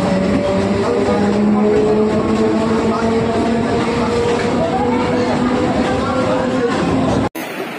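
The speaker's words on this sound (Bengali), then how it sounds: "ট্রেন চলে এসছে" A train pulls into a station with a loud, continuous rumble and screeching wheel tones that slide in pitch, heard up close for about seven seconds before cutting off.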